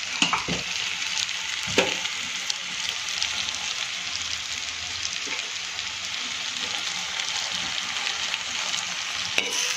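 Cooked rice and chopped green onion are stirred through a hot sizzling pan for veg pulao. A steady bed of frying hiss runs throughout, broken by a few sharp spatula scrapes and knocks near the start and end.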